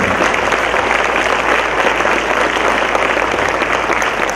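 A large audience at a 2017 prayer gathering in Belagavi claps loudly and steadily to honour their chairman, a thick, even roar of applause with no break.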